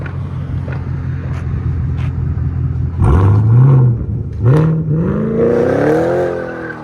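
A 2024 Chevy Camaro SS with a 6.2L V8, six-speed manual and Magnaflow exhaust rumbles at idle, then pulls away loud and close, revving up through the gears with a deep, rising exhaust note.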